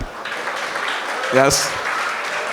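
Crowd applause at a Telugu movie promotional event in Dallas for the film Pottel: an even, moderate wash of clapping throughout, briefly overlapped by a man's short spoken word.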